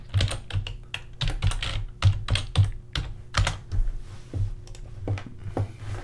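Rapid typing on a computer keyboard, a steady run of close, crisp key clicks with uneven rhythm and a few heavier strokes, heard alone without talk.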